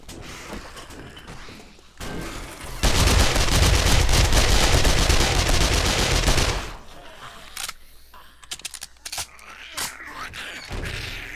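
Sustained SMG fire in the zombie survival game 7 Days to Die: a loud, dense burst lasting several seconds, then scattered single shots and mechanical clicks.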